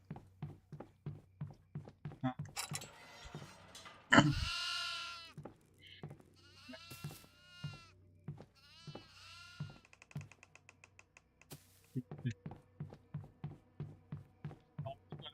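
Several goat bleats in the horror video game Devour ring out over a steady run of footsteps, with a louder, drawn-out bleat near the middle and quieter calls after it.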